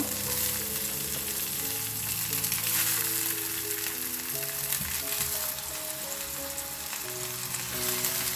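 Tomato halves cooking in a pan: a steady close sizzle fills the whole stretch with a continuous low background hum, no speech.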